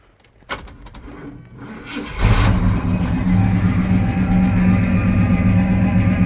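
A rusty 1969 Pontiac Grand Prix Model J with a 400 engine and 400 transmission: a few cranks and clicks, then it fires and settles into a loud, steady, throbbing run.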